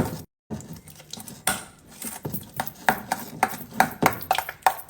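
A spoon stirs a fava bean dish in a pot, making repeated clinks and scrapes against the metal in an uneven rhythm, close and moderately loud, with no voice.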